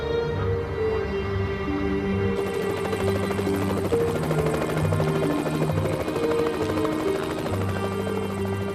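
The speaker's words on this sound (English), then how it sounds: "The BBC's helicopter was soon on its way to the scene with Anna Rajan, 5 Live's traffic reporter." A BBC news helicopter flies toward a motorway accident scene, its steady rotor thump and turbine drone loud and continuous throughout, with a brighter whine rising partway through and no talk.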